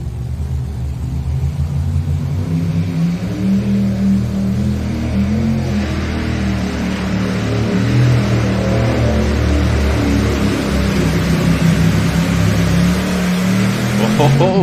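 Tractor pull engines roar down the track at a truck and tractor pull session, a loud, continuous heavy rumble that swells and grows harsher about halfway through and stays at full force to the end.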